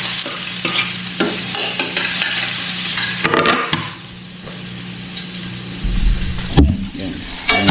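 Onion stir-fried in a pan with garlic, a loud close sizzle with scraping stirs, dipping briefly when the food is tossed, then flaring up again.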